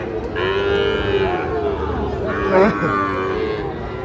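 Five- to six-month-old Sahiwal bull calves moo loudly and at length at a busy cattle market in Noakhali, the long calls rising over a constant crowd murmur.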